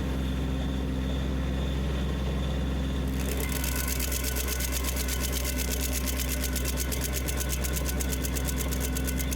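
A MechMaxx SG24 PTO stump grinder on a tractor runs steadily, an engine hum joined after a few seconds by a rapid, harsh rhythmic chatter of the grinder working a stump, continuous and fairly loud.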